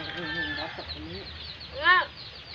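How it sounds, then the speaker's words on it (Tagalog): A native Visayan chicken clucks and calls close by, a few short wavering clucks ending in a louder squawk, with background noise throughout. "Yan ang manok na Bisaya."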